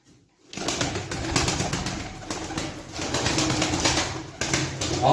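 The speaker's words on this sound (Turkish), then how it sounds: "Gene şöyle bir benekli yavru arkadaşlar." Pigeons in a breeder's loft with a spotted chick among them: continuous close cooing and fluttering wing flaps, fairly loud and busy, with no talking.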